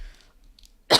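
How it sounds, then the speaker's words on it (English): A single short, sharp cough near the end, close to the microphone, after a stretch of near silence. "I tried to not cough"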